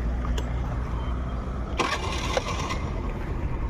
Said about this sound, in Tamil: இன்ஜின் அவ்வளோ ஸ்மூத்தாக இருக்குது.